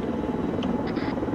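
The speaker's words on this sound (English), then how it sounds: "the helicopter seems to have not gone through your area" A helicopter drones steadily overhead, its loud, constant rotor and engine rumble filling the whole clip with a few faint higher chirps on top.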